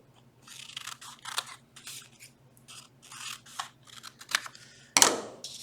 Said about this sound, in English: So I'm going to cut 2 at a time.